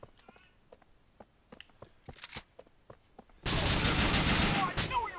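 Grand Theft Auto IV gunfire during a construction-site battle: scattered sharp clicks and shots, then a loud sustained automatic burst that fills the last couple of seconds, with faint voices underneath.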